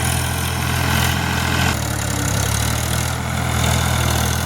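A tractor engine idles on a farm field, a steady low diesel rumble running throughout with a slight shift in pitch midway, loud and close with no voices.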